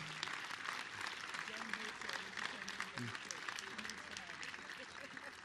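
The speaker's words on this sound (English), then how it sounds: "How about another round of applause for Joan" Steady applause from a sizable audience at a university groundbreaking ceremony, moderately loud, with faint voices mixed into the clapping.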